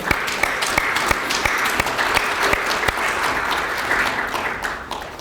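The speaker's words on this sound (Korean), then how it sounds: "다시 한번 큰 박수 부탁드립니다." Applause fills a meeting hall, a dense continuous wash of many hands clapping at full strength, loud and close, fading slightly at the end.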